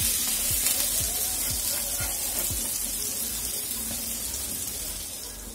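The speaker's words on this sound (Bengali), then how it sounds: "এই পিঠটাই মাখনেই ভাজা হবে" Bread slices frying in butter in a pan for a Mumbai-style bread pudla sandwich, a steady close sizzling hiss with a few light clinks early on and no talking.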